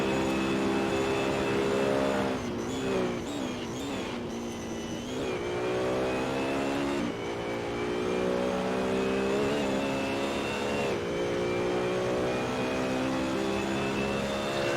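A racing car engine in a sim racing game at Monza's Autodromo roars steadily and closely, its pitch climbing through upshifts and dipping on downshifts. Several rising and falling sweeps are heard, with no talk.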